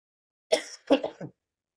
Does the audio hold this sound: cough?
yes